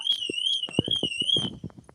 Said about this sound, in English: whose alarm's that?